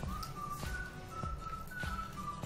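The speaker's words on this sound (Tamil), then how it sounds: "இப்போ எல்லாம் இந்த 4-5 விசில் வச்சுக்குவோம்" Pressure cooker whistling on the stove while drumstick-leaf stem soup cooks, a faint steady high tone broken by regular rhythmic clicks.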